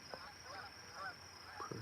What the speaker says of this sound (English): Some ducks, perhaps migrating